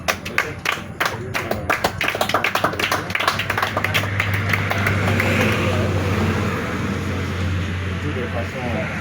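Outdoor group applause starts as separate sharp claps, then merges into steady clapping with talk and a low hum underneath, fading gradually toward the end.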